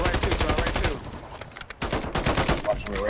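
Rapid automatic gunfire in the video game Call of Duty MWIII Warzone, with dense bursts of shots that briefly thin out before picking up again, loud and close.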